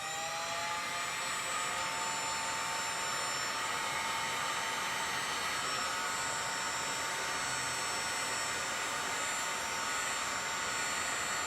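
A heat gun blows a steady, continuous whir of hot air for several seconds, loud and close, with no voices, used to heat and melt solder while fabricating tail light brackets for a 1974 Ford F350.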